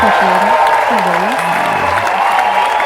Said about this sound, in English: Oh yeah, the crowd cheer.